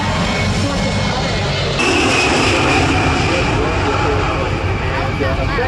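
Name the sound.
military multi-role jet aircraft passing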